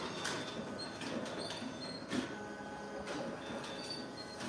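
An ID card laminating machine applying optical laminate film to a card runs with a steady mechanical whirring hum, punctuated by faint periodic clicks and soft sliding thumps, moderately quiet and without talk.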